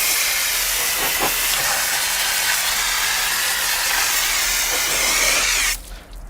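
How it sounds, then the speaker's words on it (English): A Chemical Guys foam blaster handle sprays water onto car wheels for a pre-rinse, giving a loud, steady, close hiss of pressurized spray that runs without a break and then cuts off abruptly near the end. "We'll go ahead and rinse off our wheels to remove any kind of loose dirt and debris."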